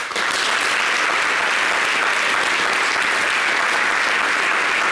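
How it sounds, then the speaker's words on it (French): Dense, sustained applause from a live show audience fills the whole stretch, loud and steady from start to finish with no speech over it. "Ça s'applaudit."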